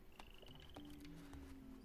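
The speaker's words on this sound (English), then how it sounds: "Huge frog." A huge frog in the video game The Plucky Squire croaks in a run of low, resonant calls, repeating steadily over a bright tonal game backdrop.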